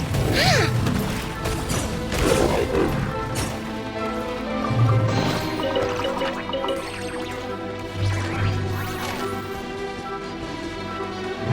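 Splashing water-bomb attacks in the game Genshin Impact: loud bursts of crashing, dripping liquid hit repeatedly over a busy backdrop of battle effects and music.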